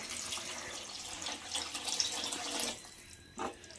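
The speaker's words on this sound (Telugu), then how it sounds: "మనకి తగినన్ని వాటర్ మనం ఎట్లా తింటామో దాన్ని బట్టి మీ టేస్ట్ని బట్టి మీరు వాటర్ వేసుకోండి" Water poured into a roadside-style shorva curry as it cooks, a steady close splashing pour lasting nearly three seconds before it stops, followed by one small splash.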